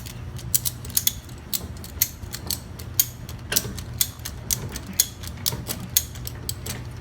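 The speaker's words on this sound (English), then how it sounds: "I'll connect strap from the bottom control arm to the upper control arm and just strap it back up into place." A ratchet strap is cranked tight between the lower and upper control arms of a 2014+ Chevrolet Silverado during a leveling kit install, giving sharp, evenly spaced ratcheting clicks close up over a low steady hum.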